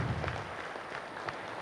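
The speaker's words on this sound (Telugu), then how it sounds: "గట్టిగా చప్పట్లు కొడదాం" Audience clapping together in an air-conditioned meditation hall, a steady dense patter of many hands held at an even level, with no talk over it.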